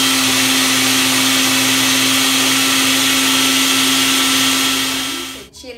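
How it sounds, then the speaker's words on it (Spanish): An electric blender grinds chile peppers in a home kitchen with a loud, steady motor roar and a constant hum, running close for several seconds before winding down at the end, with no one talking. "Ahora vamos a moler el chile."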